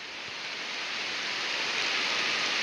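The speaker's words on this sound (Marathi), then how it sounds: "पाऊस आला" Unseasonal rain falls over open farmland as a steady, even hiss that swells slightly louder toward the end, with no voices and no distinct drops standing out.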